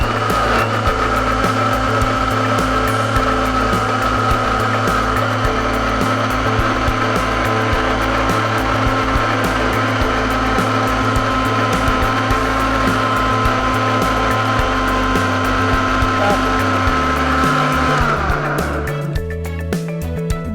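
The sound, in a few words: mixer grinder running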